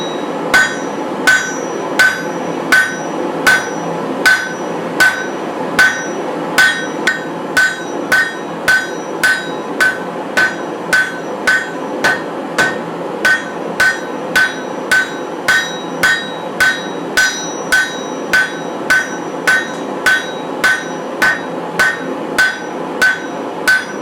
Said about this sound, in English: sometimes it's fun to just go at it with the hammer.